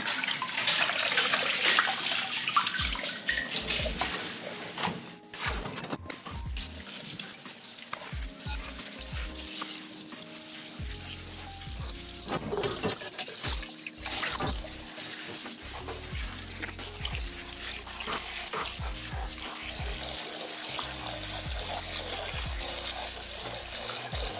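Hot water runs from a tap over the leaves of a micans plant being rinsed, a steady close hiss and splatter with shifting splashes as the plant is moved under the stream.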